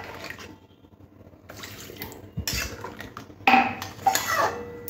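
Water splashes and pours into a metal pan while cooking a Bengali potato and prawn curry, with clinking of pots and utensils in short bursts, fairly close and without speech.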